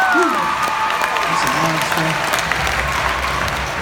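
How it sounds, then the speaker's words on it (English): An audience gives a sustained round of applause, dense and continuous throughout, with a voice talking faintly over the clapping at the start. "Give him another round of applause."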